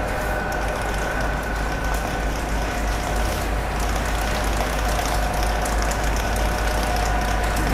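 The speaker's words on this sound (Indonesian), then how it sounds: "Di sini ada mesin crusher" A compost crusher machine runs at a waste processing site, giving off a loud, steady mechanical drone with a constant low rumble and no pauses.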